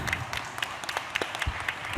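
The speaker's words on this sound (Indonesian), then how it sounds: "Oke, tepuk tangan dulu untuk kalian." Audience at a Sunday political talk event clapping together, a moderately faint, fairly steady patter of many hands with a few sharper claps standing out.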